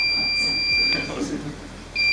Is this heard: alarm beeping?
yes